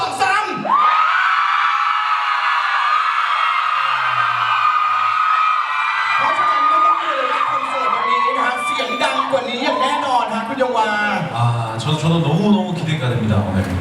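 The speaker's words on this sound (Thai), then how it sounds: "ลองฟังเสียงกรี๊ดอีกสักทีดีไหมฮะ" A crowd of Thai fans at a singer's press conference screams loudly in a sustained high-pitched shriek, swelling into layered cheering and yelling with voices mixed in.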